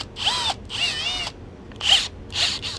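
A power drill with sandpaper fitted in its chuck, run during behind-the-scenes arcade restoration work at an aviation museum: four short whirring bursts that spin up and wind down, with quiet pauses between.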